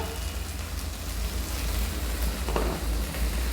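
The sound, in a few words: frying ginger and green chili paste spices in a pan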